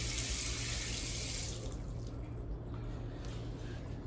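A bathroom waterfall faucet runs a steady, soft spray of water into a sink, with the hiss easing slightly partway through; faint and close, with no talking.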